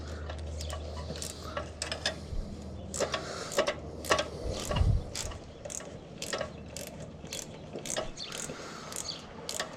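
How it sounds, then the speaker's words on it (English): A ratchet wrench loosens the carburetor bolts on a Briggs and Stratton small engine, giving close, repeated clicking bursts at an uneven pace over a steady low hum. "just keep hitting it with the ratchet"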